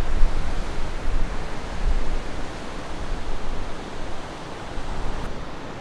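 Waves roll in at Kelingking Beach, Bali, a broad steady roar of surf mixed with wind noise, heard from some distance with gentle swells in loudness and no voices.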